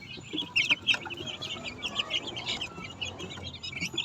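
Kanawain chickens, young birds bred from mixed eggs, cluck and chirp close by in short, irregular bursts, with a faint voice speaking underneath.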